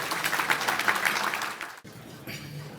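A brief burst of crowd applause at a mayors' dinner, a dense patter of clapping that drops away suddenly, then lighter scattered claps.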